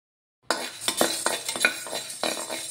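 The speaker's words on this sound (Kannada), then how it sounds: "ಒಂದು ಸೌಂಡ್ ಬರುತ್ತೆ ನೋಡಿ, ಪಟ ಪಟ ಅಂತ, ಅಲ್ಲಿ ತನಕ ಹುರಿಬೇಕಿದು." Horse gram grains dry-roasting in a pan begin after a brief silence. Irregular crackles and scraping stirs follow, with the clink of a utensil against the metal, close up and with no voices.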